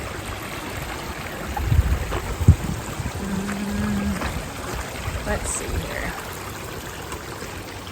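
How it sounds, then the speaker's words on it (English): Steady broadband rush of stream water flowing over a trail nearby, with someone briefly speaking and a few footstep-like thumps over it. "So here's another place where the trail has become the river."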